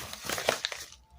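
A small plastic bag crinkles and crumples briefly up close while a ring is unboxed.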